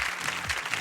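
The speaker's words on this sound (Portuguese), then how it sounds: "Palmas para o Cássio!" Studio audience applauding on a Brazilian TV talk show, a brief dense burst of clapping, fairly faint and alone.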